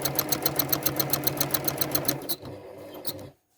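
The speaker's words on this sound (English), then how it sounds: "get the machine going, stitch to the point, and stop" A sewing machine quilting continuous curves runs in a rapid, steady stitching rhythm for about two seconds, then slows into a few separate stitches and stops, with no talking.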